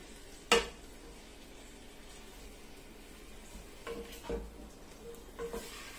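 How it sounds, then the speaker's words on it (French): Lamb pieces browning in a pot for a prune tajine, with faint sizzling beneath a sharp utensil knock near the start and a few quieter clinks and stirring scrapes later, no talking. "Et je vais laisser mijoter, revenir aussi quelques instants, le temps que la viande blanchit."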